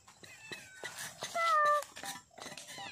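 A cat in a village setting meows a few times, thin drawn-out cries rising through mixed background noise, with the clearest, loudest call in the middle.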